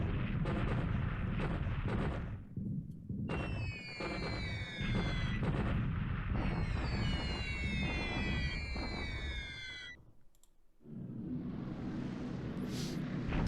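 Anti-aircraft flak fire from the War in the Pacific computer game, loud dense crackling bursts of rapid gunfire with whistling, falling streaks, then a short lull before a fresh volley erupts.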